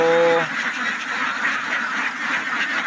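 Domestic ducks quacking in a steady noisy flock, a dense chorus of overlapping calls nearby with a brief low tonal sound at the start.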